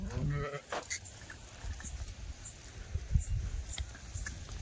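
A Kathiawari sheep bleats once near the start at a sheep sale, then low rustling and rumbling fill the background.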